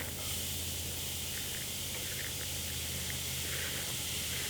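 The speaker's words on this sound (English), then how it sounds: "maybe just frying it in the pan until we get a lot of that steam off" A steady, moderate hiss of cauliflower sizzling in a hot frying pan as its moisture steams off, continuous and even throughout, with no voices.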